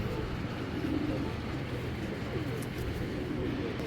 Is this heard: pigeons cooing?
yes